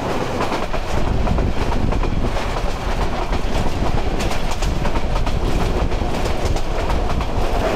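The Mahanagar Express, a Chattogram-to-Dhaka passenger train hauled by a 3000-series locomotive, pulling away on the rails: a loud, continuous rumble with rapid clattering wheel noise that stays steady and close.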